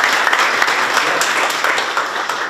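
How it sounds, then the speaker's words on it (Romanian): Steady, loud audience applause at an art biennale ceremony, dense clapping sustained without pause from start to finish. "vă rog să-l aplaudați"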